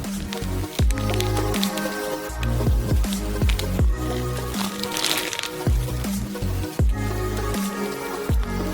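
Pizza dough filling squeezes from a cooking bag with the tip cut off, making a run of wet squishes and drips in an irregular rhythm, close and fairly loud.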